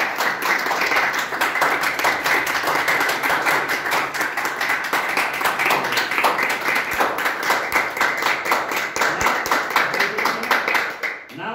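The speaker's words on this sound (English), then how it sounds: "give a big round of applause yourself" A classroom of students gives themselves a long round of applause, dense rapid hand clapping sustained near and loud for over ten seconds before cutting off abruptly.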